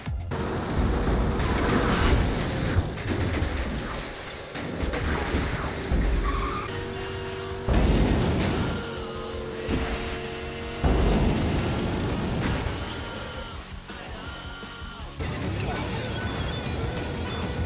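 A car in the racing game Dangerous Driving skids and crashes repeatedly, with loud engine roar, tire squeals and heavy impact booms, while someone talks throughout.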